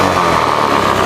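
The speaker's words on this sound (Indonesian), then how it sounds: "Nah, ini mesin hidup" A carbureted motorcycle engine idles steadily at close range, a loud, even mechanical hum with no speech over it.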